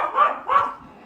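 A voice imitates a dog, giving two short barking "woof" sounds in quick succession, fairly close and clear.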